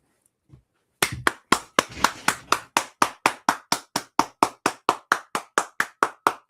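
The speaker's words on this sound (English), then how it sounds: "Stand up for this man and give him a round of applause" Single pair of hands clapping close up in a steady, evenly spaced rhythm of crisp, sharp claps, starting after a moment of near silence and continuing alone for several seconds.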